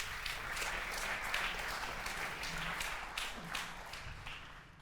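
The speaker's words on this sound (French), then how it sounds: "Allez-y, on peut applaudir." An audience applauds at a business talk, with steady, moderately faint clapping from many hands throughout.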